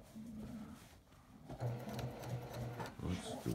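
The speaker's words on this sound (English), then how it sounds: "we are gonna start stitching here so you can watch the PQ do what it's meant to do" A Juki PQ 1500SL straight-stitch quilting machine sewing a t-shirt quilt, its fast, even needle chatter running steadily and close throughout, faint at the start and then louder, with no talking.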